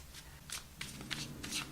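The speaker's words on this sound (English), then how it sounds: "2 more shuffles." Tarot cards are shuffled by hand in several quick riffling bursts, soft and close, with brief pauses between them and a low hum underneath.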